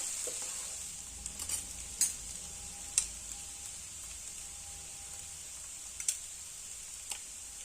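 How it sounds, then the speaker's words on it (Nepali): Soaked sabudana (tapioca pearls) stirred in a pan, a soft steady sizzle with a high hiss, punctuated every second or so by light spoon taps and scrapes against the pan, close and without talk. "अब मजाले चलाउनु पर्छ साबुदानालाई।"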